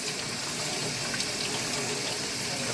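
Tap water runs steadily into a sink while hands are rinsed beneath the flow, a continuous close hiss and splash with no pauses and no talking.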